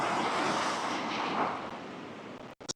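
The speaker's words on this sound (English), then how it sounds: "Here comes the waves." Ocean waves break on a beach in Ireland: a loud, broad rushing wash of surf that swells and slowly fades before cutting off abruptly.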